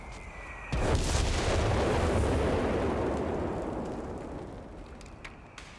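Airburst artillery from the video game Company of Heroes 3 hits as a sudden loud blast, then rolls on as a sustained rumbling barrage of overlapping explosions that fades slowly over several seconds.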